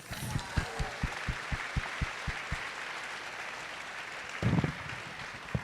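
Applause from an audience at a conference opening ceremony: a short spell of scattered claps fades over the first couple of seconds, then a brief second burst follows near the end.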